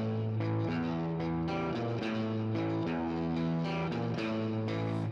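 Distorted electric guitar plays the repeating intro riff of a song, loud and continuous with effects and some echo, no voices.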